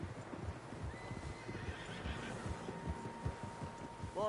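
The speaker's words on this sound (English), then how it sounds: "Horses, quite a few of them." Several horses whinny and neigh while hooves clip-clop steadily on the ground in a video game, with a sharp whinny near the end. Faint voices murmur underneath.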